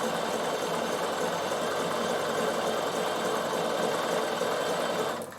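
Bernina sewing machine stitching wool appliqué around a soft curve, a steady continuous close-up hum and rapid needle chatter running unbroken for about five seconds before easing off at the end.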